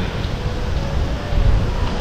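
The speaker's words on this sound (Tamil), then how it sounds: "காற்று பயங்கரமாக அடிக்குதுங்க." Strong wind gusts roar across the microphone by the river at Ellapatti near Theni, a steady, loud, low rumbling buffet that swells briefly midway, with no speech.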